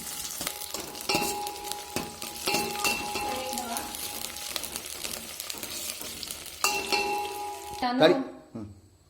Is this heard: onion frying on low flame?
yes